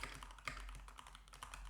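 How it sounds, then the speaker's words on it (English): Quiet, rapid key clicks from a Keychron K8 Pro keyboard, captured by a microphone on a boom arm off to the side, form an irregular run of soft taps with no voices. "Typing on the Keychron K8 Pro with the microphone on the boom arm."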